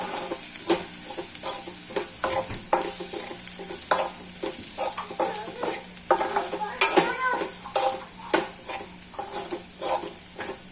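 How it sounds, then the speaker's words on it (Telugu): Chilli powder frying in a pan as it is stirred, a soft continuous sizzle broken by frequent scraping and clinking of a spoon against the pan in an irregular rhythm, close and moderately quiet. "చిల్లీ పౌడర్ అనేది బాగా వేయించుకోండి కారం పచ్చివాసన పోయే వరకు."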